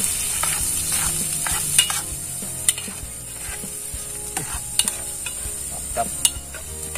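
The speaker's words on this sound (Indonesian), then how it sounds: "Kemudian kita masukkan lagi tempe gorengnya tadi. Terus kita aduk rata sama telur tadi." Fried tempeh and egg are stirred together in a pan while cooking outdoors, with a continuous sizzle under repeated scraping and clicking of a spatula. A voice speaks one brief word.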